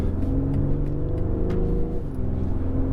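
A loud, sporty BMW X3 M40d SUV engine revs steadily, its pitch dropping briefly near the end as a gear changes, then pulling strongly again.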